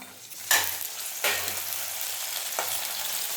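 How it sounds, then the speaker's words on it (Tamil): Onion and tomato sautéing in a pan for a mushroom gravy, a bright continuous sizzle broken by three sharp surges as food is stirred or added, close and fairly loud, no voices. "வெங்காயம் நல்லா வதங்கிடுச்சு. இப்போ சின்ன சைஸ் தக்காளி பழம் ஒன்று போட்டுக்கலாம்."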